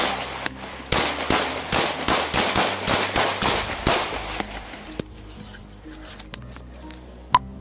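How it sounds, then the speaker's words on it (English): Gunshots fired during a police encounter, a rapid string of loud sharp cracks with a few isolated shots trailing off afterward, close and without talk over them. "Shots fired. Male down with a gun."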